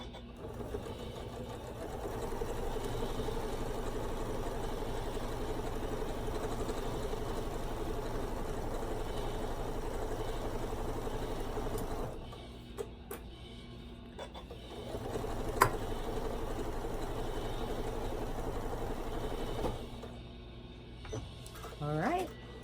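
A sewing machine runs steadily for about twelve seconds as it stitches quilt fabric for a scrap quilt, then stops, leaving a few soft clicks and handling noises, all close by with no voices.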